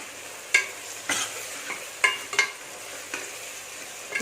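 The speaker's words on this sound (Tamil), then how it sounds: "கொஞ்சமாக உப்பு போட்டு வதக்கிக்குவோம் அப்போ தான் சீக்கிரமாக வேகும்" Chopped tomatoes sautéing with a little salt in a pan for Tamil-style mutton curry, a steady close sizzle broken by several sharp scraping stirs of the spoon against the pan.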